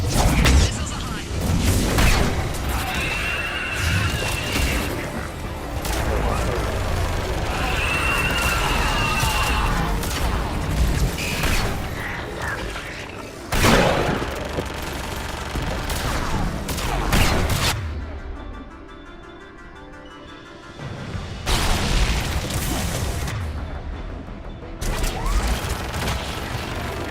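Missile launcher firing and explosions in the video game Mass Effect 3, a dense run of loud blasts, booms and crashing impacts with gunfire-like bursts, dropping briefly quieter before more heavy hits, with talk mixed in.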